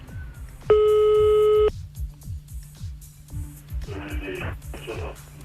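A landline telephone tone while dialing a second number during a radio call-in prank, a loud steady beep followed by short pulsed tones, with speech and a rhythmic backing beat underneath.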